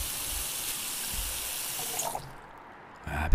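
Water runs steadily from a kitchen tap in Cooking Simulator, a close, hissing splash that stops abruptly partway through, followed by a short clatter.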